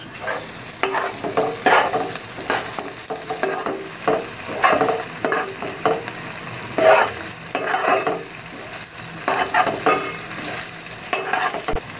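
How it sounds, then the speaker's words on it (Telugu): Ginger garlic paste is stirred into fried onions in a hot pan, giving a loud, steady sizzle broken by repeated scraping strokes of a spoon, close up with no talk. "ఇప్పుడు బాగా కలుపుకుందాం దీన్ని"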